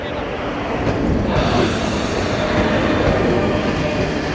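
A train arrives at a station platform in Youssoufia, Morocco, its low rolling rumble and rail noise loud and continuous throughout, with faint squeal and clatter mixed in.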